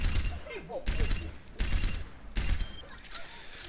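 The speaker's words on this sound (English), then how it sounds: "the reason they call this a pulse rifle is because you gun them down at range with pulses of Soldier's pulse rifle" Soldier's pulse rifle fires in Overwatch in four short, evenly spaced bursts of rapid shots, loud and close, with brief pauses between them and faint in-game voice sounds underneath.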